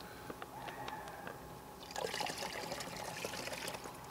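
Water from a Sawyer gravity filter trickles into a small Stanley cook set pot, a faint steady dribble that grows fuller and splashier partway through, close and quiet.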